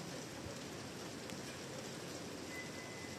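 Steady rain pours down outdoors on a Samsung A56 phone, a dense, even hiss of drops hitting the surface, constant and close throughout with no talking.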